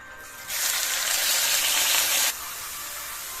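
Onion paste dropped into a hot pan for fish curry gives a sudden loud sizzle and hiss that holds for about two seconds, then falls back to a quieter simmer.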